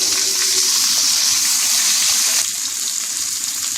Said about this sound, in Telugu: ఇప్పుడు కందగడ్డని అందులోకి వేసుకుందాం.